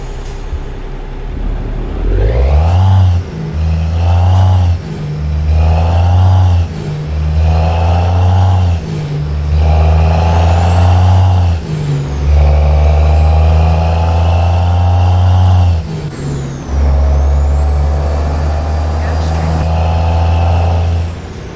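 Dense simulated traffic in American Truck Simulator: heavy truck engines rev up in repeated surges through the gears, with air-brake hisses and cars passing. It runs loud and close with no talking.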